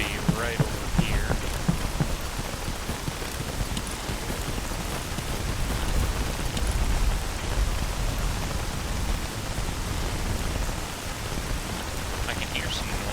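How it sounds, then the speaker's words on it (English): Steady rain pours throughout a S.T.A.L.K.E.R. G.A.M.M.A. game scene, a dense continuous hiss over a low rumble with faint scattered game sounds mixed in. "Over this rain, it's hard to distinguish certain sounds."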